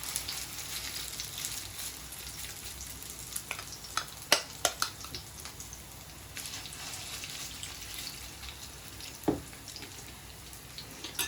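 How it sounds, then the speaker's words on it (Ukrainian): Continuous sizzling and crackling of cutlets frying in a pan, with scattered louder pops and spits over a steady hiss. "поки мої котлетки смажаться"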